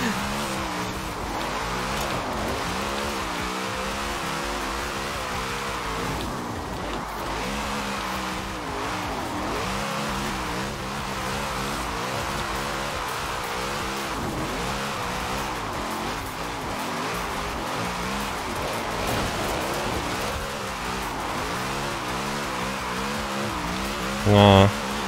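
A car drifting in Forza Horizon 4 holds a continuous engine roar with wavering revs and tire squeal through the whole long stretch, loud and close, with someone talking over it at times.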